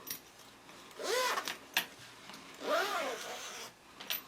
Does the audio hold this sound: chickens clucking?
no